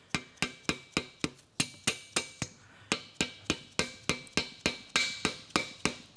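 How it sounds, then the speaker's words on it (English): A plastic hammer taps a crankshaft main bearing cap into place during a Ford 5.4L 3V engine build, giving a steady series of about twenty crisp, ringing knocks close by, evenly paced with a few brief pauses and no talking. "grab my plastic hammer, and I'm just gonna give it some taps"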